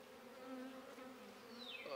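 Indian honeybees (Apis cerana indica) buzzing at a hive box, a steady close drone with a faint higher-pitched buzz passing near the end, no speech.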